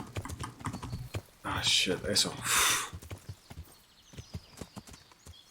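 A horse's hooves clip-clop in the medieval game Kingdom Come: Deliverance, a run of close, even knocking steps that continues throughout, briefly covered by a burst of louder noise, while someone talks over it.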